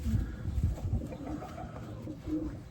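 Low, soft cooing from a dark gray racing pigeon in a loft, several muffled throaty pulses repeating close by with no talk over them.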